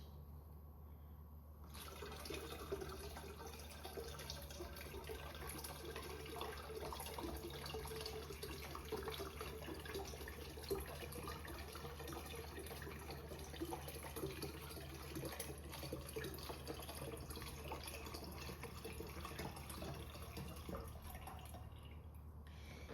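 Water pours steadily into a container, a quart at a time, a continuous close splashing and trickling stream that runs for about twenty seconds with no talking.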